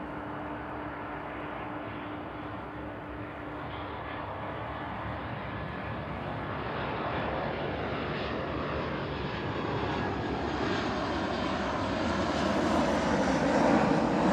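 Jet2 airliner on final approach to East Midlands Airport, a steady broadband engine roar that swells gradually as the aircraft draws nearer, with no talk over it.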